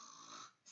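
A voice imitates a granny snoring, giving one soft, breathy rasp, brief and quiet, with a short catch near the end.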